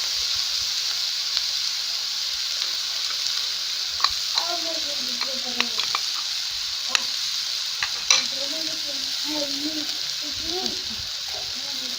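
Boiled, finely chopped meat fries in a pan for spicy chicken paratha, sizzling with a steady hiss while a utensil stirs and scrapes in short bursts; a voice talks faintly at times.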